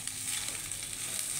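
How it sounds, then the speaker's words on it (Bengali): Dried red chillies and cinnamon sizzle steadily in hot oil in a home kitchen pan while cooking duck curry, a continuous close crackling hiss with no voices. "কয়েকটা শুকনো লঙ্কা এবং দারুচিনি একসাথে তেল দিয়ে ভেজে নেওয়া হলো।"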